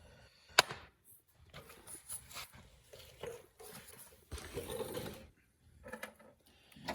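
A socket wrench ratchets on 13 mm (half-inch) stud nuts on a snowmobile track, giving scattered mechanical clicks and short ratcheting bursts with a sharp clack near the start, quiet and close with pauses between.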